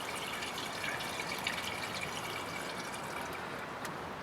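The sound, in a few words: pouring cooling system additive into truck radiator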